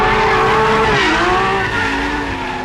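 The naturally aspirated V12 of a Lamborghini Aventador running on synthetic fuel, a loud, sustained, close engine howl whose pitch sweeps down and back up as it revs, with no talk over it.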